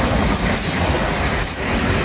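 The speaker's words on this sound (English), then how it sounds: "look at this train. Toot toot" A train rumbles past close by at Mules Park and Sprey Point, a loud continuous roar of wheels on rails with faint metallic squeal, filling the whole stretch without pause.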